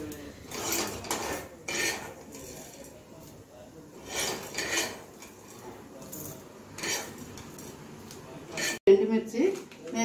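Fried tamarind leaves and dried chillies are moved into a bowl or plate with a few scraping, clinking touches of utensil on dishware, while someone talks throughout.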